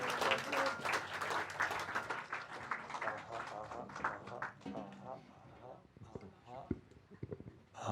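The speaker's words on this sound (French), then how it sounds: "Est-ce qu'on peut applaudir Christina?" A church congregation applauds a woman after her presentation, the clapping filling the room at first, then thinning and fading under scattered voices and a few sharp taps.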